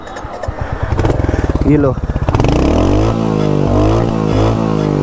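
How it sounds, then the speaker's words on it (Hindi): A Royal Enfield Hunter 350 exhaust close by, with blips of revving that settle into a steady, thumping idle; loud, with a brief spoken word. "ये है थंडर का कुछ एग्जॉस्ट नोट।"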